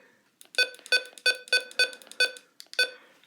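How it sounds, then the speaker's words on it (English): A string of eight short, bright electronic button beeps from a weather radio in a fairly even rhythm, close and clear against near silence. "Has these button beeps."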